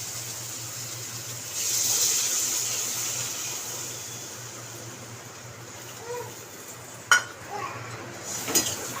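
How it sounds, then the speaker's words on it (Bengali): Water is poured into a pan of tilapia fish curry with potatoes in a home kitchen, a soft faint gush with a low background hum, followed by a few sharp clinks of a utensil against the pan near the end. "এবারে জল দিয়ে দেবো।"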